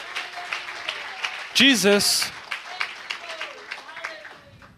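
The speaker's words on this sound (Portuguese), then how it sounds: "Clap with zeal." Church congregation applauding with fervor during a bilingual worship service, a dense burst of clapping rising under a preacher's loud, excited voice, then thinning into scattered claps.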